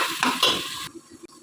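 Onions with tomato-garlic paste and green chillies frying in a pan, a brief close burst of sizzling and stirring that cuts off after under a second, followed by faint utensil clinks.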